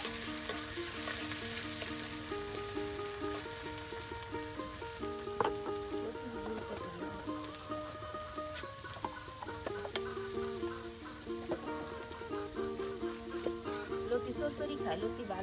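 Onions frying in oil with ground cumin paste make a constant bubbling sizzle in the pan. A voice talks over it throughout.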